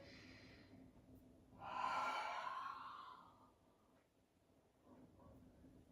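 A single deep breath drawn in during a foam roller exercise, a soft airy inhale swelling and fading over a couple of seconds in a quiet room.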